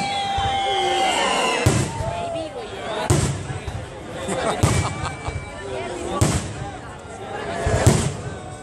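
Fireworks display at the Dueville festival (Sagra) in 2019: loud booming bursts every second or so with crackling and whistling, heard outdoors among a chattering crowd.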